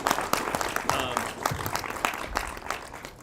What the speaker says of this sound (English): can I just get a round of applause for that?